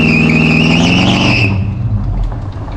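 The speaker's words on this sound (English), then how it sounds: "here's a clip of a baby burnout that I did." Loud engine of a 1955 Plymouth with a 318 Magnum V8 and retarded timing revving hard through a small burnout, then easing off to a rough, lower rumble with some tire noise.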